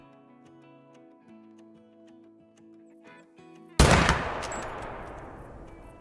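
A single sharp, loud rifle shot cracks out from a tree stand during a whitetail buck hunt, echoing and decaying over the following seconds after a quiet stretch of faint background ticking.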